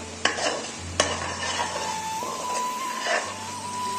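Brinjal curry mixed with kasuri methi in a pan, two sharp spoon knocks on the rim followed by soft stirring and a low sizzle, with a faint tonal hum running through.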